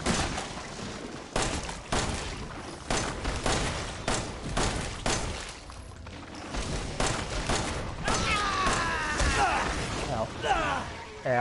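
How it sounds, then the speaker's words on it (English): Shotgun blasts ring out in the Resident Evil 7 video game, a run of heavy booming shots with mechanical clatter between them, loud and close, mixed with game sounds and a voice talking over them. "Let's hit her with the shotgun."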